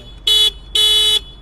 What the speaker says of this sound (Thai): นี่เสียงแตรก็ไม่เท่าไหร ่หูอู้ไปหน่อย